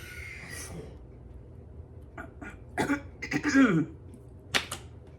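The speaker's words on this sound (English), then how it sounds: "Sorry, I had a coughing fit then" Several sharp coughs and throat-clearing sounds come close together, loud and nearby, after a quieter stretch.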